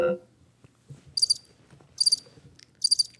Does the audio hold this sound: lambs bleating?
no